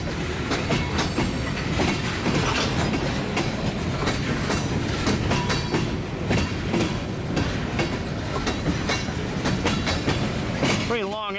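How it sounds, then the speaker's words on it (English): A long Iowa Northern ethanol train rolls past close by, loud continuous rumble with rhythmic clickety-clack of wheels over rail joints and a brief squeal near the end; a voice speaks under the noise. "Pretty long ethanol train it looks like."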